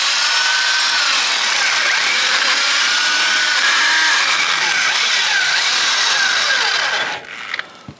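A high-pitched drill grinds steadily through a cottage wall for several seconds, then stops abruptly, leaving a few faint clicks.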